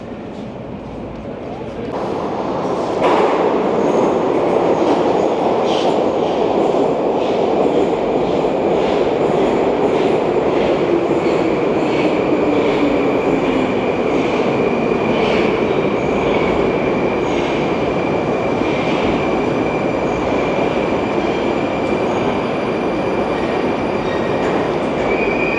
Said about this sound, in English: this particular train is one of the shunting trains